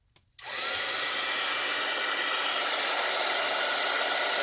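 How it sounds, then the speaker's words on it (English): A heat tool switches on with a click and blows a loud, steady rush of hot air onto puffy embossing on an envelope, holding without a break. "Now I'm going to hit it with my heat tool."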